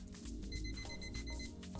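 An alarm clock rings inside the video game Odysseus Kosmos, a quiet, continuous run of bright repeating tones over a busy background.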